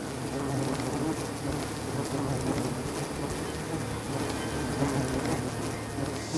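Wild bees swarm and buzz at an old, darkened hive inside a hollow tree, a dense continuous drone that stays steady and close throughout without letup.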